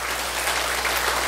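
Audience applause at a Buddhist temple lecture series, a steady dense wash of many hands clapping continuously throughout, fairly loud and close with no talk over it.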